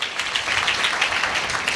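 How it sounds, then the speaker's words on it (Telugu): An audience applauds during a church sermon, a short burst of steady clapping from many hands at moderate loudness with no talk over it. "చప్పట్లు కొట్టవా మరి బిగ్గరగా?"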